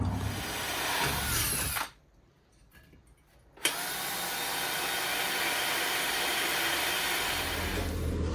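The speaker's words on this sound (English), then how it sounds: "All I gotta do is drill a freaking hole." A power drill whines loudly and continuously while drilling a hole for a transmission mount, stops for about two seconds, then resumes just as strongly to the end.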